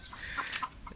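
Hens clucking in a backyard coop, a few soft, faint clucks in quick succession over low background noise.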